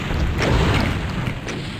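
Rocket explosions in the video game Doom 2, a loud continuous rumbling boom with overlapping blasts filling the whole moment, no talk.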